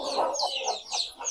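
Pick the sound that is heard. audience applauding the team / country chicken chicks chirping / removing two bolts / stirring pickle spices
country chicken chicks chirping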